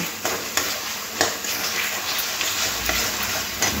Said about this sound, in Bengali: এবার মশলার মধ্যে দিয়ে একটু ভালো করে আলুটাকে একটু কষে নেব